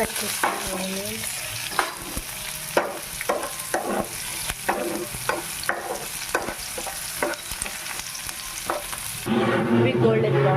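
Chopped onions with cumin, mustard seeds and curry leaves frying in hot oil for an egg garlic masala, a steady close sizzle broken by regular scraping stirs about every second, growing louder at the end.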